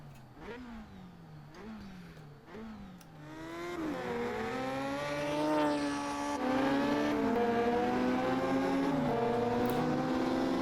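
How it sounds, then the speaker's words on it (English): Historic Formula 2 race car engine in a racing video game at Monaco, revving through repeated upshifts with rising and falling tones, then holding a loud sustained high-revving drone as the car accelerates. "Now I've turned up the sound from the engine since last time."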